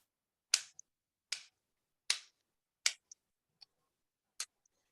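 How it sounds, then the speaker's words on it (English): A traditional California native clapping stick made of elderberry wood is struck in a slow, steady rhythm, six sharp dry clacks with small rattling after-taps, close and alone in quiet. "This is a traditional stick, very California native stick, made out of the elderberry, and it's called a clapping stick"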